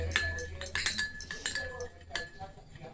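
Face pack being stirred with rose water in a small bowl, giving close, irregular clinks and taps of a utensil against the dish, while someone talks quietly.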